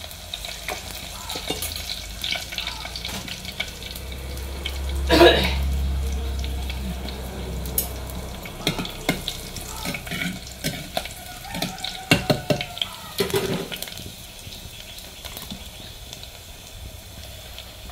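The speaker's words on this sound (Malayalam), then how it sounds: "ഇനി നമ്മൾ ഇതിലേക്ക് കുറച്ച് വെളുത്തുള്ളി ചതച്ചത്, ദമ്മ പോക്കിനൊരു വറ്റൽ മുളക് കൊടുത്തിട്ടുണ്ട്" Crushed garlic and dried red chilli fry in a pan with a continuous close sizzle, broken by stirring clatter and a louder hiss burst partway through; no speech.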